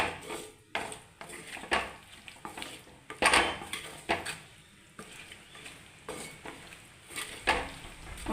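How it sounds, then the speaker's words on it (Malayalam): A spoon stirs prawn curry with turmeric and pepper powder in a pan, giving repeated scraping clinks against the metal and a soft sizzle. The strokes come in irregular bursts, close up, with no talking. "ഇളക്കി കൊടുക്കാം."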